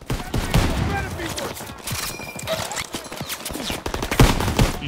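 Rapid bursts of automatic rifle and machine-gun fire in the World War II shooter Call of Duty WW2, Battle of the Bulge setting, crackling steadily throughout with overlapping shots and a voice speaking over the combat.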